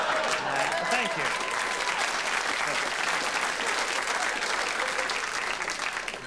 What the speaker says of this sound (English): Round of applause for having eyes.